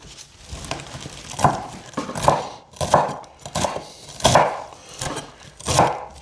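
A knife chops herbs finely on a wooden board, sharp rhythmic thuds arriving roughly every second in a steady pattern, close and clear.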